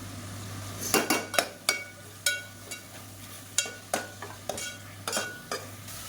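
Mint and coriander are sautéed with ginger garlic paste in a pan for biryani, a spatula scraping and clinking in about a dozen quick, uneven strokes over a soft sizzle, with no talking.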